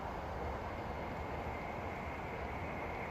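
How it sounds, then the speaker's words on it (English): A train passes in the distance during a nature walk by Westport Lake in Stoke-on-Trent. It is a faint, steady, wide rumble that holds evenly throughout, with no voices. "Just hear a train going past."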